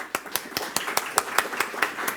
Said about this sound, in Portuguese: Eu queria até dar umas palmas para ele, porque ele merece muito.